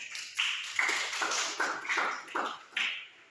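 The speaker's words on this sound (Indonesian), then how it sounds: "Boleh tepuk tangan." A school class claps for a presenting group, giving a handful of separate, sparse claps spaced unevenly over a few seconds, quiet and somewhat distant in a room.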